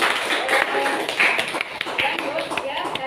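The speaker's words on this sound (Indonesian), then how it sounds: "tepuk tangan untuk kalian" Students in a business communication class clap together: scattered, fairly close handclaps and taps for a few seconds, mixed with voices talking over them.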